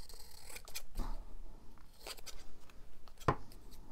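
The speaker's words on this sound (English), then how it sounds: "I'll just trim it and see." Scissors trim a paper junk journal cover topper in a few short, quiet snips, with soft handling rustle between the cuts.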